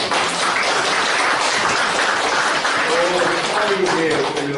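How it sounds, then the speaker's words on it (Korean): Applause from an audience at a church public hearing on an anti-discrimination law, a dense and steady clapping wash that holds throughout, with a voice speaking over it. "우리 먼저 박수 한번 드립니다"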